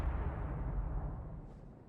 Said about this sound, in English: Just heard a huge explosion. Was that a tank fire?